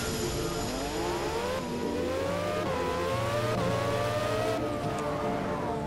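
A Formula 1 car in Project Cars, driven with a Logitech G25 wheel, screams at high revs on track, its engine pitch climbing and then dropping at each paddle gear shift every couple of seconds, loud and continuous.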